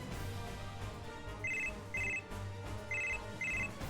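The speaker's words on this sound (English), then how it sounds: "Ring, ring, ring, phone call." A telephone rings in the video game Super Robot Wars 30, four short electronic double-trill bursts in a steady pattern over quiet background music.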